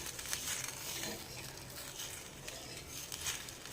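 Red chutney for street-style cabbage Manchurian cooks over high heat in a hot pan, giving a soft, steady sizzle and bubbling hiss, faint and continuous with no talk.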